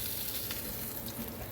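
Food frying in a pan, already browned, gives a steady soft sizzle at low level throughout, with faint crackle and no talking.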